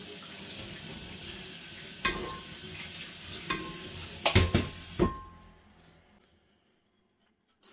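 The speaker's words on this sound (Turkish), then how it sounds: "Bir de şöyle sudan geçiriyorum." Steady running tap water splashes continuously over chickpeas, with a few sharper clatters as they are shaken in a strainer, then the flow stops and silence follows.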